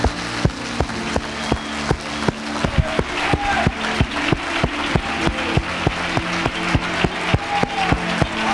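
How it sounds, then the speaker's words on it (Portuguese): A church congregation claps loudly and rhythmically for the Lord in a steady, even beat of sharp hand claps over soft music throughout. "Levanta suas mãos e aplauda o Senhor bem forte"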